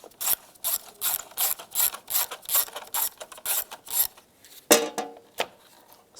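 A 10mm socket ratchet loosens a nut on the power distribution fuse block of a 1999-2005 Volkswagen Jetta: quick bursts of close, sharp ratcheting clicks in a steady rhythm, with no talking.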